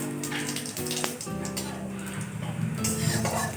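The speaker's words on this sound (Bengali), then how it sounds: "তেলটা গরম হয়ে গিয়েছে, এখন ওই তেলে আমি দিয়ে দিচ্ছি তেজপাতা" Bay leaves and whole cumin frying in hot oil give a steady crackling sizzle, close and continuous, with a voice talking over it and faint clinks of a utensil.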